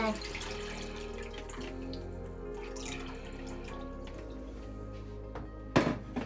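Water pours into a pot of rice for mushroom dum biryani, heard as a close splashing trickle that ends in a brief louder splash and clunk.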